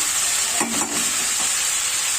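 Prawn curry (chingri bhuna) frying in oil in a pan, a steady close sizzle with a brief spoon stir scraping through the middle, no talk.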